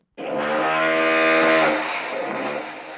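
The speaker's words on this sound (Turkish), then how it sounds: "matkap sesi açtım." A loud, steady mechanical whine of a recorded power drill played from a speaker, with a tinny quality, starting abruptly and running continuously.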